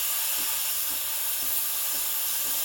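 Steam wand of a Breville Barista Express BES860 espresso machine steaming milk at full pressure, a loud, steady hiss with faint periodic gurgles as the milk spins, heard without talk.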